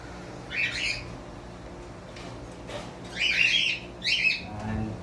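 Rosy-faced lovebirds in an aviary give harsh, high squawks and chirps in several bursts over steady background hum, close and fairly loud.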